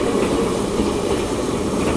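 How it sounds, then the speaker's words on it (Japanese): A commuter train that once ran in Tokyo pulls away from Uchinada Station in Ishikawa, a steady loud rumble of wheels and car bodies close by, with no talk over it. "昔東京で走っていた電車が走り去っていきます。"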